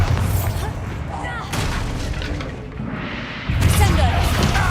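Bombarda blasting spell explosions in the video game Hogwarts Legacy: several heavy booming blasts and crashes, with a strong low thump near the end, over a busy combat background.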